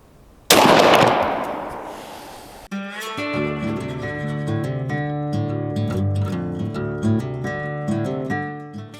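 A shotgun fires one Apex 9x10 1.5-ounce turkey load during pattern testing: a single loud, close blast that rings and fades over about two seconds, after which music plays.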